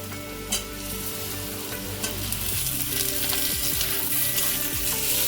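Eggplant pieces frying in a pan with a loud, dense, continuous sizzle and crackle, close by, with a few stirring scrapes and utensil taps over the hiss and no voices.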